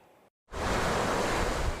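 Lake Michigan waves washing on the shore on a gloomy spring day, a loud steady roar of surf with wind noise that cuts in after a brief silence.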